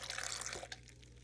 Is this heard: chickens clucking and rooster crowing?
no